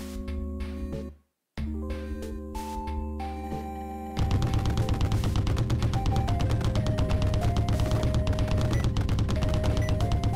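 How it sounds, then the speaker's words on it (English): A machine gun fires in the Dead Estate video game in a long, rapid, unbroken stream of loud shots layered over the game's music. The music plays alone for the first few seconds before the gunfire starts. "this machine gun's pretty nice"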